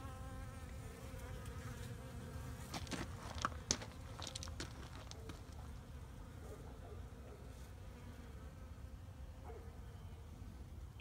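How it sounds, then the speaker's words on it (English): Bees buzz continuously around a beehive after a white-faced hornet has been killed, a steady, close, moderately loud drone with a few brief crinkling sounds partway through. "See, now my bees aren't going crazy anymore."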